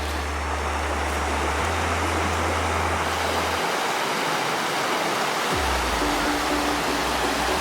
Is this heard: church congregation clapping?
no